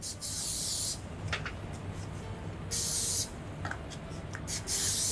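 Three short, loud bursts of hissing cooking-grease spray coat aluminium cake moulds for chocolate fondants, with light scraping and handling noises in the quieter gaps between sprays.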